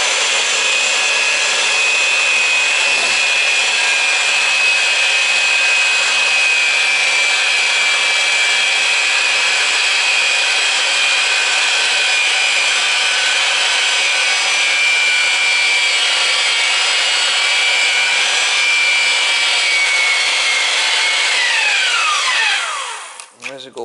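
Pipe threader cutting threads on steel gas line pipe for a Generac whole house generator, a steady loud grinding, scraping drone that runs unbroken for over twenty seconds before trailing off at the end.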